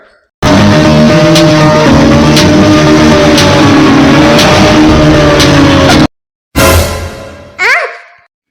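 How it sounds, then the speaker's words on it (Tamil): A cartoon car speeds and accelerates in a loud, steady engine roar lasting several seconds, cutting off abruptly, then two shorter revving bursts follow. "நீ என்ன தேரா ஓட்டுற? கார் தானே ஓட்டுற, மெதுவா போடா."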